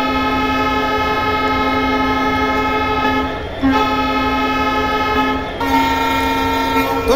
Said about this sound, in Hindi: हॉर्न बजा देते हैं